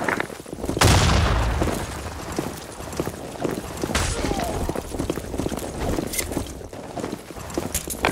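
Grenade blasts and rapid gunfire in the BlackShot shooter game on the Half Loaded LRT map: a heavy boom near the start, then dense crackling shots and impacts throughout, with a second sharp burst midway.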